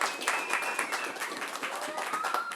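A crowd at an outdoor Groundhog Day ceremony at a Staten Island zoo gives a round of applause, with close, crisp individual claps and faint background voices mixed in.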